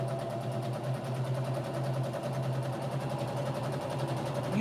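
Sewing machine stitching with a quarter-inch foot, a steady close mechanical whir with a fine rapid rhythm of the needle running on without a break.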